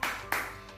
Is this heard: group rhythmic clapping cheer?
yes